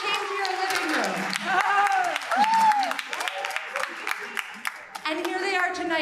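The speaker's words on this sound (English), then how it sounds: "So you all deserve a round of applause too." Audience at a middle school spring orchestra concert breaks into applause and cheering, a loud, dense burst of clapping and crowd noise that thins out toward the end, with voices mixed in.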